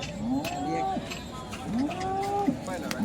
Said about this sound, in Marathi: ही सगळी कालवड आहे ती बघा